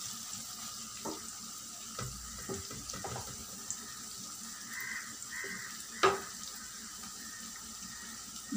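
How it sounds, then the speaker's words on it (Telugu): Water poured into besan-based Bombay chutney in a kitchen, a soft running splash with faint stirring and clinking sounds around it, fairly quiet with no talk. "దీంట్లో ఇప్పుడు మనం వాటర్ పోసేసుకున్నాము."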